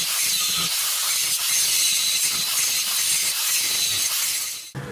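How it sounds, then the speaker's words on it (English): An angle grinder cuts steadily through the rear hub bearing race of an S13, a loud continuous high hissing whine up close, cutting off abruptly at the end. "I have to grind through and try and split it and hope it falls off."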